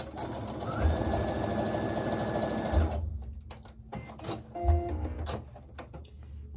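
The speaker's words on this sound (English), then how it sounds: "And I'm going to sew down this side." A sewing machine stitches down the side of a disappearing hourglass quilt piece, a loud steady mechanical whir for about three seconds, then stops, leaving lighter handling clicks and a short hum.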